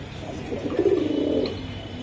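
Tournament-flying pigeons of the Giribaz high-flyer type coo in a low, rolling burst close by, with steady background hum and no talk.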